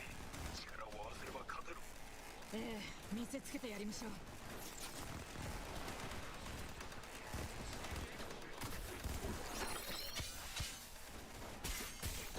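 Rapid gunfire and bullets deflected by a katana in a cyberpunk Nintendo Switch 2 video game, a dense stream of shots and sharp metallic clanks, with people talking over the action.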